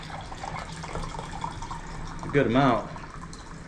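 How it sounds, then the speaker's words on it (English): Brine from a jar of peaches pours out in a short liquid burst of about half a second near the middle, over a steady kitchen background, with a voice talking briefly during the pour. "I'm going to take some of this liquid out of here. I don't want all of this brine yet."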